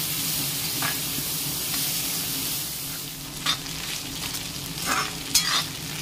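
Betel flowers sizzle in a pan under a constant hiss, broken by a few short scraping bursts as they are stirred.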